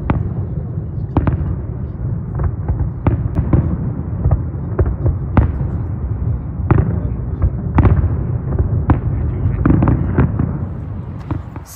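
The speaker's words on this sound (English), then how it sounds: "the fireworks are fired from 5 or 6 spots in Minsk at 11 p.m." Repeated sharp bursts of Victory Day fireworks in Minsk, Belarus, going off at irregular intervals over a steady low rumble, with faint voices in the background.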